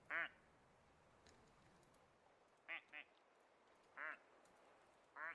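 Plastic toy ducks quack in the video game Alisa: The Awakening, four short bursts spread across the stretch, the second a quick double, loud over a steady low background hiss.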